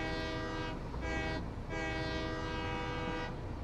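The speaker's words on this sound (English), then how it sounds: "Have to have the mandatory train horn." A train horn in a video game about rebuilding nuclear fuel production, sounding as two long, steady, harmonically rich blasts with a short gap between them, loud and clear over the rumble of a moving train.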